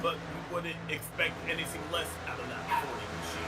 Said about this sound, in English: Apologies for the dog. I don't know why he's barking